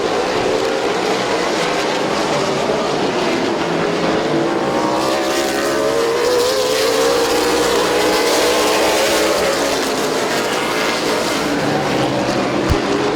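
Race cars roar around Midvale Speedway, a dirt oval, with rising and falling engine whines as the pack passes close by. The sound is loud and continuous, with layered engines sweeping through and a sharp thump near the end.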